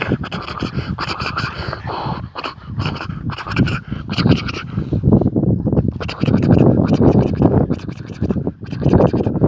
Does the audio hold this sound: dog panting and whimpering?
yes